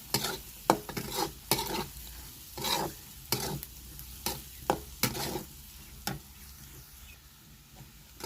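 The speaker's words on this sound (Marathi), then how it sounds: "मिरची शेंगदाणे पण टाकून दिले कडक होईपर्यंत तळून घ्यायचे चांगले" Green chillies and peanuts fry in hot oil, a soft continuous sizzle broken by repeated sharp scraping strokes of a spatula in an irregular rhythm, close by and without talk.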